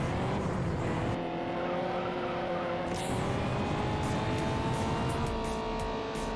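Toyota Celica engine in the racing game Juiced, screaming at high revs with tire squeal and skids beneath a steady whine, loud and continuous.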